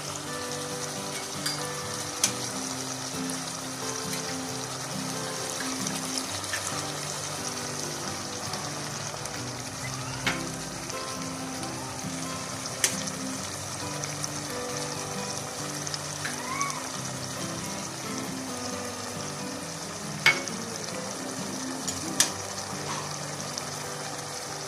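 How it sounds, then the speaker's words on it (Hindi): Potatoes frying in gravy in a pan with eggs in the mix: a steady close sizzle and bubbling hiss continues throughout, broken by occasional faint clinks and taps. "अब ये आलू डाल दिए, थोड़ा सा इसमें ग्रेवी में इसको भून लें"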